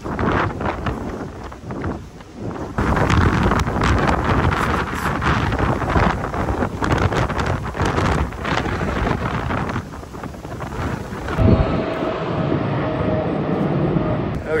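Violent hurricane wind near a seawall roaring and buffeting the microphone in heavy gusts, loud and continuous, easing slightly near the end.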